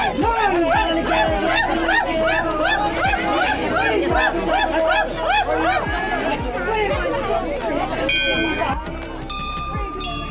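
A dense crowd of devotees at the Bunkhal fair temple of Maa Kalika, with steady chatter and babble and a recurring rhythmic drumbeat underneath. Dogs bark at times.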